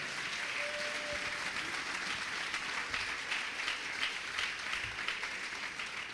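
Steady applause from a church congregation during a Bible study gathering, a dense wash of clapping holding evenly from start to finish with no talk over it.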